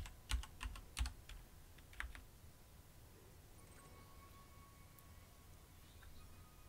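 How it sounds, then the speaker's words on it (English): A computer keyboard being typed on: a few sharp, close keystroke clicks in a quick burst at the start, then a faint steady room hum with only sparse taps. "I'm typing in the Musabayev City"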